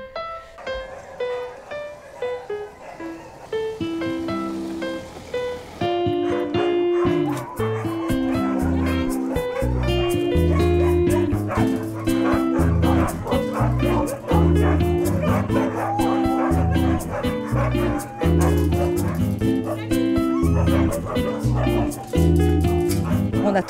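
Sled dogs at a musher's kennel in Indre-et-Loire bark, yip and whine in a dense, continuous chorus, loud and close throughout.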